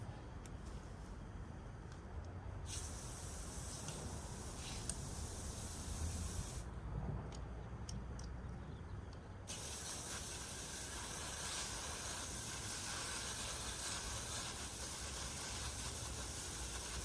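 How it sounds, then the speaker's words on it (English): A garden hose sprays water over knife parts to rinse them, giving a steady, continuous hiss with slight shifts in tone as the spray moves, heard close and alone. "Let's get these over to the hose."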